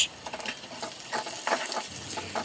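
Onion and capsicum stir-fried for chilli chicken, a steady close sizzle with scraping stirs and soft patter, no voices.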